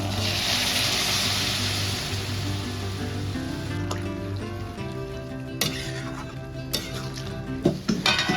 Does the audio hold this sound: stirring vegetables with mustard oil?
yes